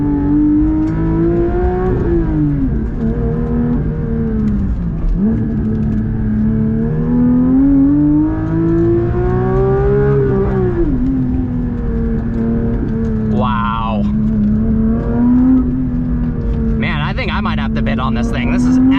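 Manual Porsche 992 GT3 engine revving while driving, heard from the cabin as a steady loud drone that rises and falls in pitch with each pull and shift, continuous throughout with brief higher whines near the end.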